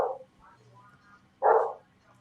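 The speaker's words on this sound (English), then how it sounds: "Somebody's dog is barking." Somewhere off at a distance outdoors, a dog gives a couple of faint, muffled barks, one weak and one stronger, over a quiet background.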